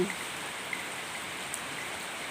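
Steady rain falling on a surface, a soft continuous hiss with scattered faint drop ticks, fairly quiet and without speech.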